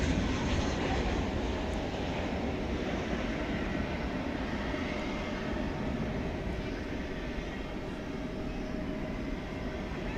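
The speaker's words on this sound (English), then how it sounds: "we can catch the 757 taking off" A Boeing 757 jet takes off at night at DFW Airport, a steady, broad engine roar that holds evenly at moderate distance with no talking over it.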